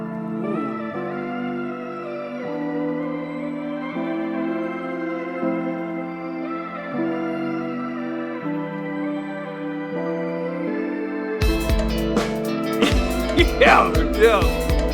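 An unreleased official theme from the Jujutsu Kaisen anime soundtrack plays alone, a steady layered orchestral passage with sustained harmony that swells into a denser, busier section with added percussion near the end.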